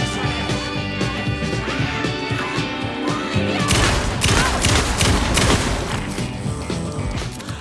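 Rapid gunfire rattles off in a dense burst that grows louder midway through, sharp cracks and crashes crowding together before the shots thin out near the end.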